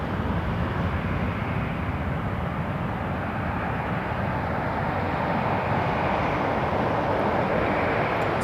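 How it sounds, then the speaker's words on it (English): Steady, loud broadband roar of an airliner departing runway 23 at Toronto Pearson, an Embraer 175 following an Airbus A330, filling the whole stretch with a continuous jet rumble from a distance. "175 departs on runway 23 off to LaGuardia, right behind this beautiful A330."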